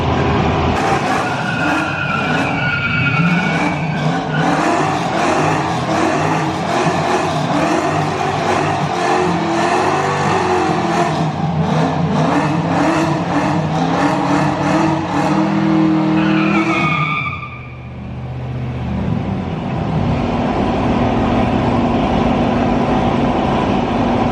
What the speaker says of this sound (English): my tires could not break free on this floor right here